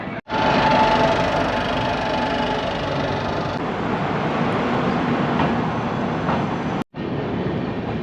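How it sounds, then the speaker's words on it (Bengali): A train stands at Bareilly railway junction with a loud, steady rumbling drone, close and continuous, cut off briefly near the end before resuming. "11টা 21 বাজে ট্রেন আসলো বারেলি জাংশনে। এখানে ট্রেনটা 5 মিনিট দাঁড়াবে।"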